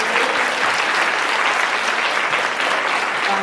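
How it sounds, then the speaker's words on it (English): Conference audience at an early-education event applauding newly arrived first-year teachers, a full, even wash of clapping from many hands that holds steady throughout, moderately loud with no talk over it. "Can we have a round of applause for these people who've just come in?"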